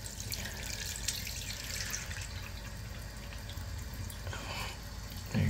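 Fluidmaster Performax fill valve refilling a toilet tank, a steady hissing rush of running water with faint trickles, continuous and fairly quiet, with a louder bump at the end.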